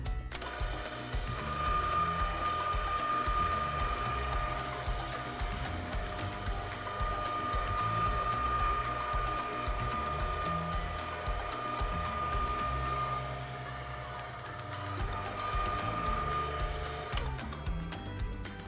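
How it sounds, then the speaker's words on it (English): A motorized pasta machine runs steadily for a long stretch, making a continuous close ratcheting, geared mechanical drone with a faint tonal whine, briefly easing near the end before resuming. "We'll turn on the pasta machine."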